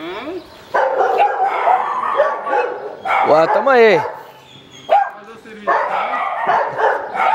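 Dogs bark and yelp at home during an ultrasonic anti-bark device test, giving loud repeated bursts with a rising whine in the middle, while a person talks over part of it.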